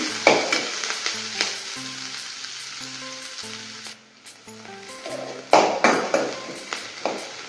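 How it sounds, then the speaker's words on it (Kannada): Onion and garlic roasting in a pan, a crackling sizzle punctuated by repeated sharp spoon taps and scrapes against the metal, with faint tonal pings, fading briefly midway before the stirring picks up again. "ಆನಿಯನ್ ಹಾಕ್ಕೊಳ್ಳಿ, ಹಾಗೆ ಬೆಳ್ಳುಳ್ಳಿ ಕೂಡ ಹಾಕ್ಕೊಳ್ಳಿ. ಸ್ವಲ್ಪ ರೋಸ್ಟ್ ಮಾಡ್ಕೊಳ್ಳಿ."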